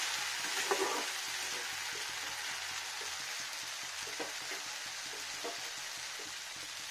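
Boneless chicken and mixed vegetables sauté in a pan with a steady, fairly quiet sizzle and a few soft stirring knocks.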